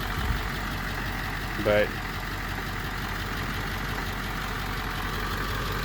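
A Ford 7.3 Powerstroke diesel engine runs with a steady low rumble throughout, cold and short on power, while someone speaks briefly over it.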